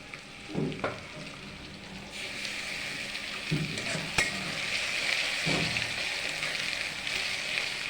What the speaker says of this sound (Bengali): আদাটাকে ভেজে নিব